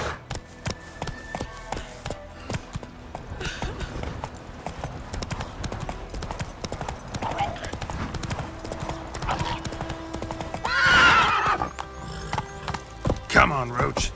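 Roach, Geralt's horse in The Witcher 3, trots with steady clip-clopping hooves and gives a whinny partway through. Game sounds and a voice come in now and then.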